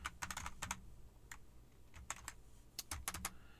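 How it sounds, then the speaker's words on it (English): Bursts of clicky typing on a computer keyboard while looking up an item online, arriving in short uneven clusters with pauses between, close and fairly quiet, with no talking. "it helps if I type it in right"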